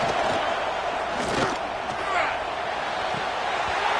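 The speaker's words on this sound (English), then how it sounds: "Here comes the noise from this big crowd in Happy Valley on third down." A large stadium crowd in the College Football 26 video game roars steadily at Penn State's Happy Valley on third down, a dense wash of cheering that swells slightly midway and never lets up, with a commentator's voice in the mix.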